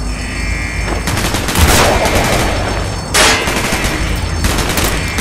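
Dense automatic gunfire and explosive bursts from Call of Duty Black Ops, loud and continuous, with sharp swells of heavier fire partway through and no talk over it.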